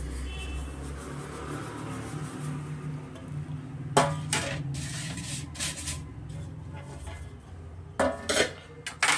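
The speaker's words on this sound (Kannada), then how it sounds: "ಮೀಡಿಯಮ್ ಫ್ಲೇಮಲ್ಲೇ ಸ್ವಲ್ಪ ನಾವು ತಿರ್ಕೊಡ್ಬೇಕಾಗುತ್ತೆ" Semolina (rava) for tomato rava khara bath is stirred and roasted in a pan over a medium flame: a few sharp scraping, clattering bursts of a spoon against metal over a low, steady background hum, with no talking.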